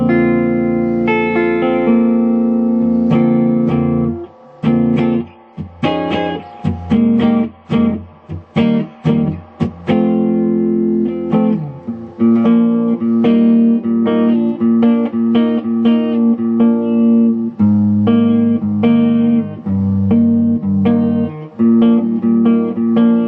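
A Supro Saturn Reverb guitar amplifier with a 12AU7 tube in the V1 position, heard as loud electric guitar chords and single notes with reverb tails, alternating choppy strums and sustained ringing passages.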